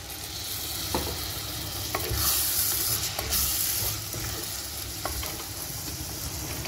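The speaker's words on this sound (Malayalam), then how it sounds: "നമുക്കിതിലേക്ക് കുതിർത്തി വെച്ചേക്കണ കുടംപുളിനെ ഇട്ട് കൊടുക്കാം." Soaked kudampuli (Malabar tamarind) going into masala frying in a pan, a continuous close sizzle and hiss with a few stirring scrapes and a brief louder surge of steam, no talking.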